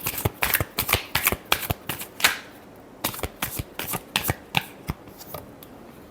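A deck of tarot cards is riffled and shuffled close up, with rapid bursts of crisp, fluttering card slaps in quick, uneven runs and short pauses between them.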